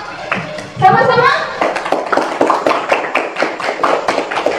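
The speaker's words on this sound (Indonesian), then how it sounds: "Tepuk tangan." A classroom of children claps hands together, a burst of quick irregular claps with young voices chattering and calling out over them, fairly loud and close.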